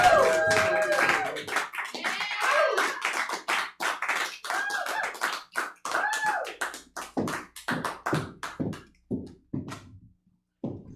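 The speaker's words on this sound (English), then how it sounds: "keep clapping, give it up for Jessica Monroe" Audience clapping at a live LGBTQ comedy show for a drag performer coming up to perform stand-up, scattered hand claps under a voice talking over them, thinning into a few separate claps toward the end.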